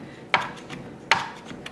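A knife minces avocado-dip ingredients on a cutting board for guacamole with a rocking motion, giving two sharp close knocks followed by softer taps, fairly quiet and without talk.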